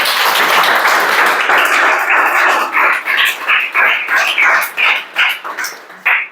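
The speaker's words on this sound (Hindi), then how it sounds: "चलो ताली बजाओ।" Students in a Chhattisgarh police recruitment coaching class clap their hands. Dense, continuous group applause settles into a steady rhythmic beat of short, loud claps near the end.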